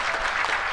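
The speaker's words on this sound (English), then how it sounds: "please stand up for recognition and a round of applause to you" A brief burst of dense audience clapping for teachers standing for recognition at an award ceremony, lasting under a second.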